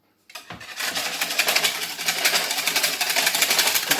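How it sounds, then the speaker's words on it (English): Whisk beating sourdough pizza dough ingredients in a bowl: a steady, fast scraping rattle that starts abruptly and continues close and evenly for several seconds. "Whisk it."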